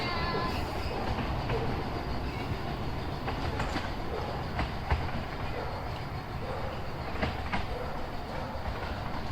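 A train passes near Rudyard Lake, heard as a continuous rumbling roar of wheels on rails with light rhythmic clatter, fairly near and steady throughout.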